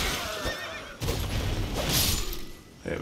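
A horse in the video game Elden Ring neighs and whinnies loudly, the call rising and falling over game effects and a crash.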